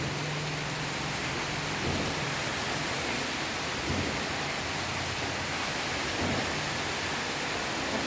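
Heavy rain falls steadily and without pause, a dense broadband hiss with low rumbling beneath, like a downpour lasting an hour outside a balcony where a pair of birds shelters.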